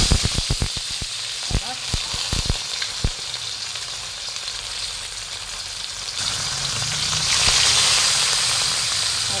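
Milkfish (bangus) frying in a pan at home, opening with a few sharp clatters and taps before a steady, close oily sizzle takes over and swells louder toward the end.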